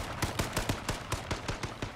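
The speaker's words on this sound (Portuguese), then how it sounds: "Tô levando tiro da direita aqui" Rapid gunfire from the battle royale video game H1Z1 rattles off in about eleven sharp, evenly spaced shots over two seconds, moderately loud with no talking.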